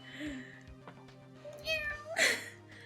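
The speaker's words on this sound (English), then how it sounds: "Oh, a kitten." A kitten meows in the Ghost Trick: Phantom Detective video game, a few short high mews with one louder, longer meow near the end, over quiet game music.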